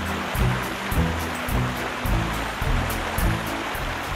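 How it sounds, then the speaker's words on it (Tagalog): Tamaraw Falls beside a roadside in Oriental Mindoro, Philippines: a steady rushing water roar with rhythmic low surges, dense and continuous, heard alone without voices. "At ito ang talon ng Tamaraw na magdadaanan lang ng inyong sasakyan dahil nasa tabing kalsada lang ito."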